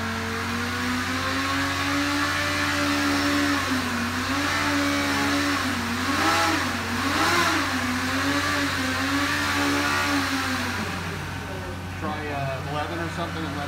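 A Cosworth XB racing engine runs on a dyno with a steady loud droning whine, its pitch wavering up and down as the revs rise and dip, then falling away near the end, close and continuous.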